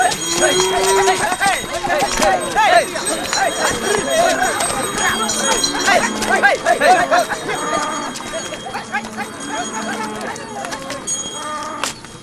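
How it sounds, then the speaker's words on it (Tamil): Cattle being led through a Tamil village clop their hooves in a steady rhythm with jingling bells, heard under music and nearby voices. "ஏ தாமரை, என்ன நீ மாடு பிடிச்சிட்டு வர?"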